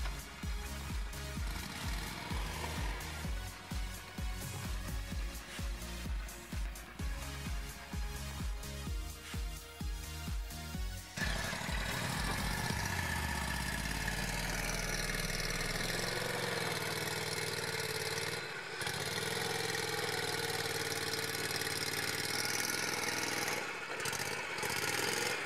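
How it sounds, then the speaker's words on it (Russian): An Argo Bigfoot 800 all-terrain vehicle being winched out off-road: a steady, close mechanical drone with a pulsing engine idle in the first half, then a smoother, continuous whirring hum. No one speaks. "Как и в прошлый раз, лебедка нас выручила."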